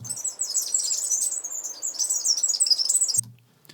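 Several birds chirping and tweeting in quick, overlapping high calls, close and clear, ending abruptly.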